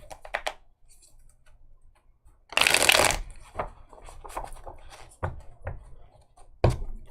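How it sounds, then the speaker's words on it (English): Tarot cards are shuffled by hand in a loud, rushing riffle that lasts under a second, surrounded by scattered soft taps and card handling, with no talk over it. "Let me shuffle the cards up."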